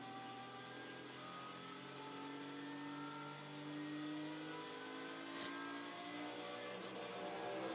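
A GT race car engine in the ADAC GT Masters at Oschersleben drones steadily from on board while running slowly behind a safety car, its pitch rising and falling with gentle throttle changes and a brief sharp click midway.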